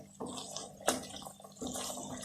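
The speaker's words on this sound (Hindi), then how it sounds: "अब मैं 1/2 लीटर पानी डालने लगी हूँ।" Half a litre of water poured into browned chicken for nihari, heard as a close, loud splashing pour in bursts over about two seconds, with no talking.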